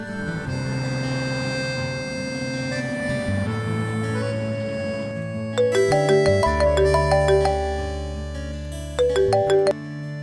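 A mobile phone rings in a domestic scene from a Pakistani drama, its bright repeating electronic tone sounding in two bursts over a low musical background, with no one speaking.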